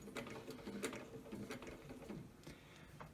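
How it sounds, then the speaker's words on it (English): A sewing machine runs quietly on its own, a faint rapid mechanical clatter of needle and gears ticking in an uneven rhythm with no voices. "it's a sewing machine"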